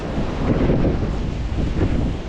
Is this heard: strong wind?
yes